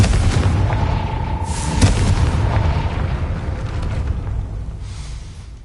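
A Confringo spell explosion in the Hogwarts Legacy video game: a deep, booming blast with a sharp burst near two seconds, then a rumbling roar that slowly fades.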